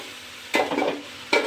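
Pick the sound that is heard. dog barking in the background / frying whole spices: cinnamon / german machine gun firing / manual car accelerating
frying whole spices: cinnamon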